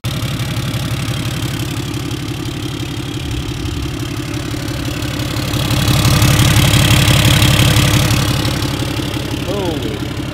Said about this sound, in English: It's a mix between like a fart can sound on like a small like racer car, and then it just also has the deep growl of a diesel.